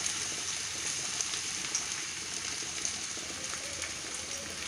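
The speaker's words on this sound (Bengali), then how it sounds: "এবার সুন্দর করে এটা নেড়ে নিই ভালো করে, এপিট উপিট করে রাইসটাকে সুন্দর করে ভেজে নিই।" Rice sizzles and crackles steadily as it is stir-fried in a hot pan, a dense continuous frying hiss with small pops, close and alone.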